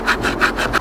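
Hand saw cutting through wood outdoors on an island, close and loud, with rhythmic rasping strokes about every third of a second and no talk.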